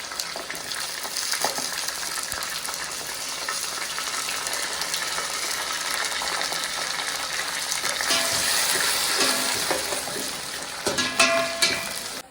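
Sliced onions frying in a pot with fennel seeds, mint, green chilli and cardamom, giving a continuous close sizzle and crackle with occasional stirring scrapes, growing slightly louder toward the end.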